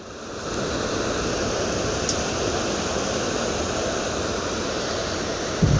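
Ocean waves washing ashore on a breezy day, a steady broad roar of surf and wind close by, continuous and fairly loud with no talking.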